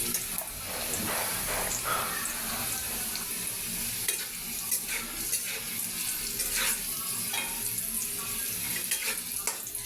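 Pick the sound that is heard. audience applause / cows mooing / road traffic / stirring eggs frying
stirring eggs frying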